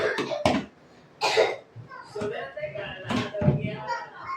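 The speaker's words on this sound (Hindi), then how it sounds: "उससे कितनी खांसी हो रही है" Several short coughing bursts from someone choking on flour dust while measuring maida in a home kitchen, close and loud, with gaps of quieter room noise and a faint thud in between.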